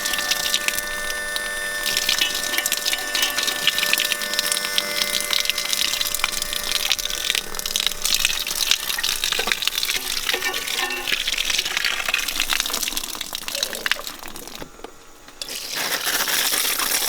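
Water gushes and splashes steadily inside a cane mill being washed out, a continuous rushing spray with a brief dip near the end before the flow resumes.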